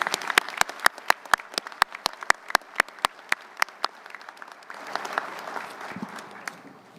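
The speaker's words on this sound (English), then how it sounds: "let's just have one more final round of applause for these superior performers" Applause at a keynote luncheon, a few loud separate claps near the mic over a dense, steady patter of clapping that thins and trails off toward the end.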